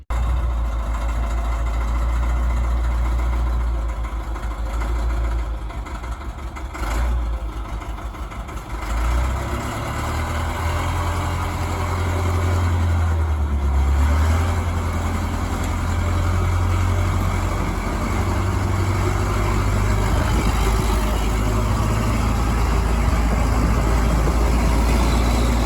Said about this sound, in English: Now we'll get the loader out so my dad can grab a few totes from in behind the house.